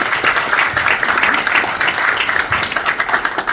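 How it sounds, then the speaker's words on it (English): Forum members applauding first-time guests at a leaders' gathering, a dense, sustained round of clapping from a crowd that fills the room at steady loudness throughout. "members, please give a round of applause"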